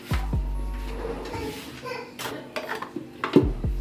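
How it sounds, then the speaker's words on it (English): Frozen bananas drop into a blender jar with a few hard thunks and knocks, followed by scattered lighter clatters and taps, close and moderately loud in a quiet kitchen. "put our bananas in the blender"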